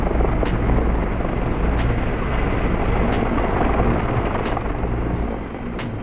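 A Sikorsky S-64 Skycrane firefighting helicopter drones steadily and loudly overhead, a dense rotor and engine roar holding at an even level throughout with faint periodic blade swishes and no voices.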